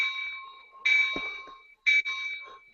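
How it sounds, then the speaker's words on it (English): A model locomotive's sound decoder rings its bell, loud, bright, metallic strikes in a quick repeating pattern with short gaps, heard alone. "the bell is really loud"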